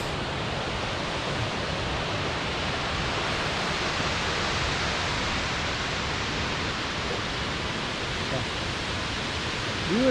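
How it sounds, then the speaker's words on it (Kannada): Mallalli Falls in the Bisle Ghat area roaring as a steady, broad and unbroken rush of falling water that fills the whole clip evenly without pause, with no talking over it. "ಮಲ್ಲಳ್ಳಿ ಫಾಲ್ಸ್."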